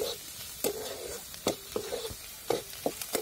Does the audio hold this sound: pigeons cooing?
no